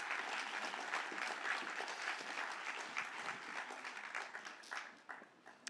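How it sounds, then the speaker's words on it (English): An audience gives a warm round of applause to welcome two panelists, a continuous, fairly faint wash of many hands clapping that thins slightly near the end. "give both Denitsa and Kaylin a warm round of applause"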